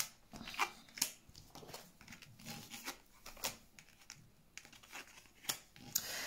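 Tarot cards slip, flutter and spill during a full-moon reading. Faint, close papery slaps and crinkly shuffling come in irregular bursts, with a few sharper flicks and no talk over them.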